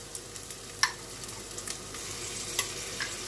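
Onions frying in a pan until colored and softened, for a coconut-milk lentil risotto (khichuri), give a soft steady sizzle broken by a few sharp clicks of stirring, fairly quiet and with no voices.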